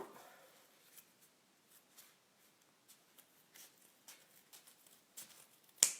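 Scissors snip through folded toilet paper or napkin while shaping a paper flower: a quiet run of small, irregular crisp cuts and rustles, ending in one louder snip.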